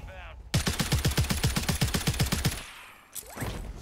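Rapid automatic gunfire rings out in Warzone, a dense burst of evenly spaced shots lasting about two seconds, loud and close, then cuts off to quieter game ambience.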